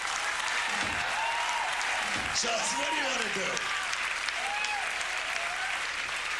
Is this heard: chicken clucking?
no